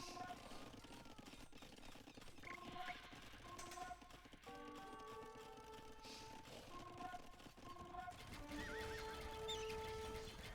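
Horses neighing and whinnying in an Age of Empires II match, several short calls scattered over game music and battle effects, with a voice talking now and then.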